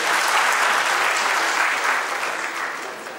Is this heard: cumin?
no